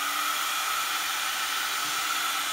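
A hair dryer blows steadily on a craft piece dampened by spilled glue, a continuous close, even airy hiss that holds without pause throughout.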